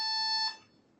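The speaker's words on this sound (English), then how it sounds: "we're going to do a quieter beep" A robot for a RoboCup Junior soccer competition gives one short, quieter electronic beep, a clear steady tone lasting about half a second before cutting off.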